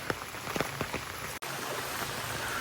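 Steady rain pours down during a flood in Jaffna, Sri Lanka, a dense continuous hiss with scattered louder drops, nearby and fairly loud, briefly cutting out for an instant midway.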